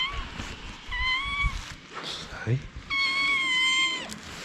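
A cat meowing on a street in Bukhara, Uzbekistan, giving two clear drawn-out meows close by, with someone briefly talking between them.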